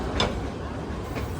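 The Meghna passenger train passes at Chandpur as a brief, fairly faint low rumble with a couple of soft clattering bursts.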